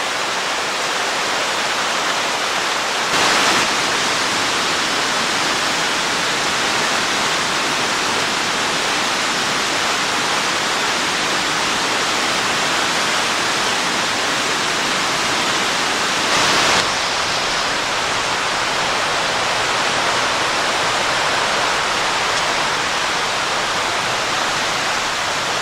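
Glade Creek Falls in New River Gorge pours in a steady, full broadband rush of cascading water, constant and close, with no voices over it.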